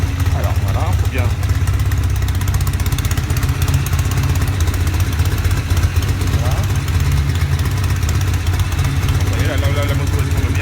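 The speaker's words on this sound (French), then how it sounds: "La moto elle tourne bien" A motorcycle engine idles steadily throughout, a continuous low rumble at constant level with faint background sounds over it.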